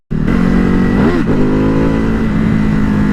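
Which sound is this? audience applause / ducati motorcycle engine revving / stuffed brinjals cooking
ducati motorcycle engine revving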